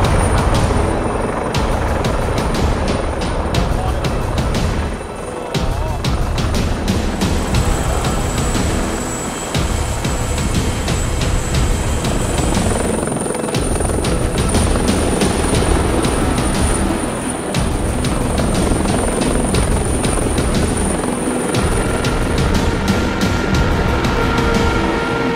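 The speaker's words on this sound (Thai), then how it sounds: "ใช่ครับเดี๋ยววันนี้มีกำหนดการที่จะมีเฮลิคอปเตอร์มาลงบนเรือหลวงนเรศวรครับ" Helicopter arriving to land on the deck of the Thai navy frigate HTMS Naresuan, a loud, continuous rotor and turbine roar with steady broadband whine that fills the whole stretch without pause.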